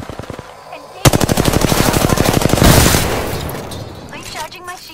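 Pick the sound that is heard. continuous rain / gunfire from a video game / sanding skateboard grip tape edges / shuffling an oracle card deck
gunfire from a video game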